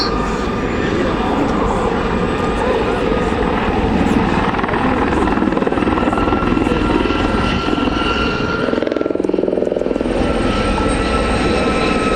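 A Gazelle helicopter in number 32 Squadron colours flies past at the RAF Cosford airshow, its rotor and turbine making a loud, steady thrum that swells slightly as it passes and dominates the whole stretch.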